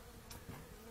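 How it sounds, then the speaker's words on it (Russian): Bees buzz as they fly near a hive entrance on the sunny south side of an apiary, a short faint drone with one brief closer pass. "Пчела летает."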